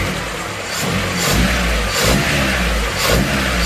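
A car engine running steadily during carburetor adjustment, a loud close rumble with a few gentle revs rising and falling, no talking.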